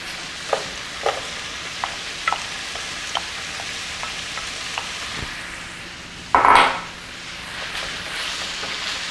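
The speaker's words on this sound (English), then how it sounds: "Just kind of break up the ground beef a little bit" Ground beef sizzles steadily in a hot pan as a utensil breaks it up, with light scraping taps every half second or so and one louder clatter near the end; no one speaks.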